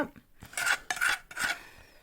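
A spoon scrapes and clinks against the inside of a pot in several quick, rhythmic strokes, close and moderately loud, stirring a cooled kulfi mixture.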